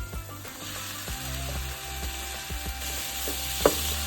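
About one and a half pounds of ground beef hits a hot pan of crushed garlic and chilies, giving a steady close sizzle broken by scraping stirs and a sharp utensil clink near the end.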